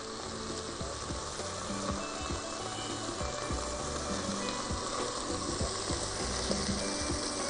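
Chopped onion sizzling in a pot with rice, a steady frying hiss that runs the whole time with small crackles and occasional stirring clicks, close and continuous.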